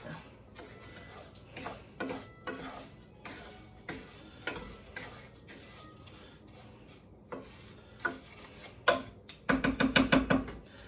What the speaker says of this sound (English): Let's give this a stir. You want to keep stirring so that you don't burn it.